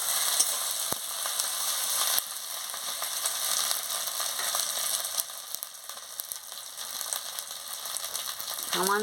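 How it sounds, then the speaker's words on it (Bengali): Ginger and garlic paste frying with browned onion in a pan for a Bengali fish curry with cauliflower, a continuous moderate sizzle with scattered clicks and scrapes of stirring, closing on a short squeaky scrape. "আদা বাটা রসুন বাটা দিয়ে দিচ্ছি।"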